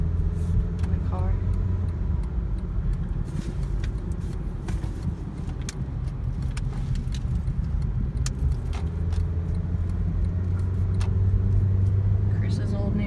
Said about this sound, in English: Leaving here with my grandpa in the car.